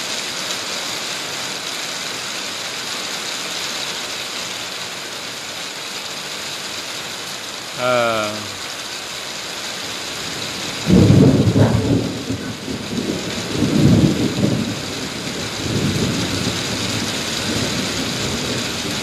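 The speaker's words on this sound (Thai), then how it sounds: "เสียงฝนดังน่ะ" Heavy rain hissing steadily throughout, with a brief rumble of thunder followed by louder rolling thunder that swells and fades, close and strong, with nobody speaking.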